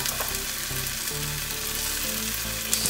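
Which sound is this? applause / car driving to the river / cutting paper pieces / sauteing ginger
sauteing ginger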